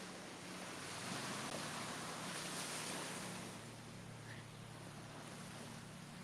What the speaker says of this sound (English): If these waves are like really loud